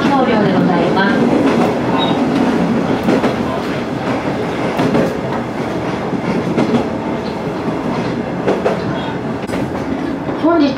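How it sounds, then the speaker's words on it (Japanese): A JR Tadami Line special train runs slowly across the Daini Tadami River bridge, with a continuous rumble and rhythmic clickety-clack of wheels on rails, loud and close, heard from on board. "次に渡ってまいりますのが第二只見川橋梁でございます。"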